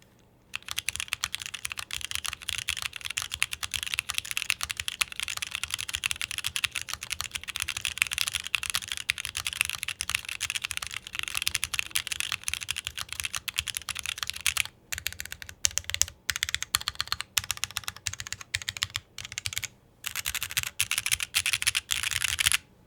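Fast continuous typing on a custom mechanical keyboard with SP Star Meteor White switches, TX stabilizers and an aluminum plate, dense crisp clacks close up with a few brief pauses late on.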